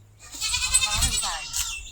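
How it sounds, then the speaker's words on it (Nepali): A goat bleats in a long, wavering, close cry lasting most of the moment. "म अब तपाईँहरूलाई देखाउँछु बाख्रा चाहिँ कराएको"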